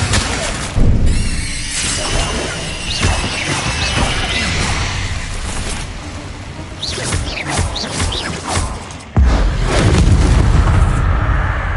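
Spell impacts in the video game Hogwarts Legacy, including the Incendio fire spell, crash and boom in quick succession with sharp thuds and shattering bursts, loud and close, briefly cut by a shouted voice.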